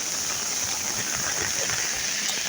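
A heavy downpour hisses in a dense, even roar that stays constant throughout, close and fairly loud, with no voice standing out above it.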